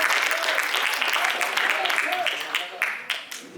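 An audience at a kavi sammelan, a Hindi-Urdu poetry gathering, applauds a poet with a burst of many hands clapping that thins and tapers off toward the end, with a voice speaking over the applause.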